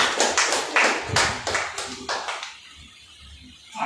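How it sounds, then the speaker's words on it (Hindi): An audience at a Hindi poetry gathering in Aurangabad, Bihar, claps loudly and densely for about two and a half seconds before the applause fades into a quiet hall. "जोरदार तालियों के बीच"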